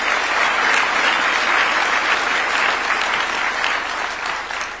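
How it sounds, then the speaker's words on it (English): An audience breaks into sustained applause for the main speaker at a State House awards ceremony in Nairobi, a dense, steady clapping that holds strong throughout and eases only slightly near the end. "A round of applause for the main speaker of this meeting."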